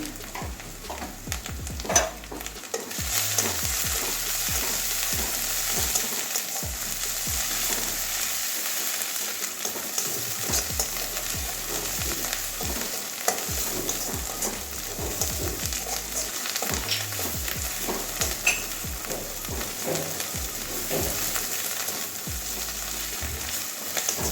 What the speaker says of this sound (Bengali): আর একটু ভাজবো এখনো কাঁচা গন্ধ যায়নি